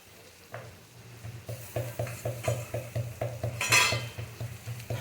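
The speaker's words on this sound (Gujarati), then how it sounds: "હવે એની અંદર આપણે આદુ લસણની અને મરચુંની પેસ્ટ નાખી દઈએ." Ginger, garlic and chili paste frying with onion in a pan, a steady sizzle broken by rhythmic scraping strokes of a spoon stirring, close and moderately loud with no talking.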